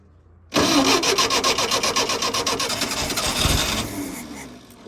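After a carburetor rebuild, a car engine cranks with rapid rhythmic turns, then catches and runs loudly before settling toward a lower idle.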